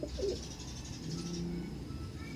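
A young pigeon or dove gives soft, low cooing calls close by, a brief murmuring coo near the start followed by steady faint background noise.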